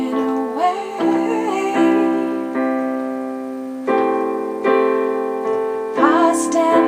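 A piano slowly plays the vocal melody of a song as single sustained notes over held low chords, moving step by step with clear gaps between phrases, close and alone with no voices.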